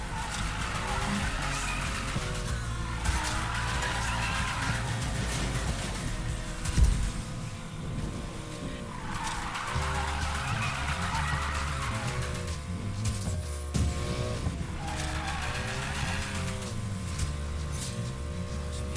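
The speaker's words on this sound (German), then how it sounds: "machst dann Break to Drift und dann kommst du halt schneller um die Kurve" A car in Need for Speed Payback drifts through corners, its engine droning steadily as tires squeal in long rising and falling swells, with a brief thump midway through.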